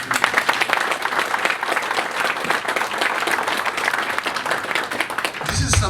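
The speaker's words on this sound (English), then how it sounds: "they deserve a round of applause." An audience at a Haitian community event claps for outgoing leaders, giving a loud, dense round of applause that carries on steadily for several seconds.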